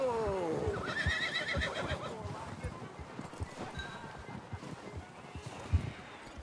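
Horse neighs and whinnies at the start, followed by steady clip-clop of hooves in Red Dead Redemption 2 as the horse is reined in and hitched, with a voice talking over it.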